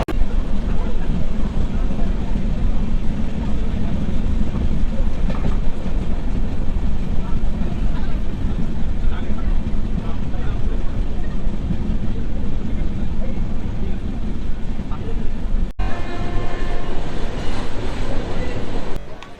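The 22897 Kandari Express from Howrah to Digha rolls steadily along the rails, a loud, continuous rumble and clatter of wheels and carriages that holds for the whole stretch with a brief dip near the end.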